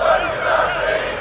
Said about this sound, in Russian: А тем временем наши болельщики затянули менее приятную для футболистов кричалку.